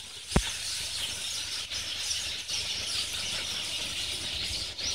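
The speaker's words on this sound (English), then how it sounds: "Thousands of birds come here every evening in the good weather." A large flock of birds gathers in the evening in good weather, producing a dense, continuous wash of high chirping and calling that fills the scene steadily, with one brief sharp knock early on.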